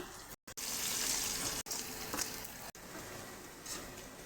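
Tempering (bagar) for Bengali potato dal sizzles in a hot pan with a continuous, close frying hiss, interrupted by a few brief gaps.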